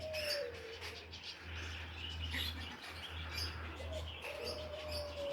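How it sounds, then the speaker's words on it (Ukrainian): Young pigeons cooing in soft low bursts over a steady hum in hot weather, with occasional chirps from other birds in the background. "Це так, жара, а ми ганяємо голубів."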